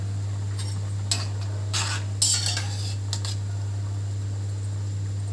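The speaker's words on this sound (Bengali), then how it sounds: "দিদি একটু নেড়ে দাও" Fish curry in a pot is stirred with a metal spoon, giving several scraping clinks against the pot over a soft simmer and a low steady hum.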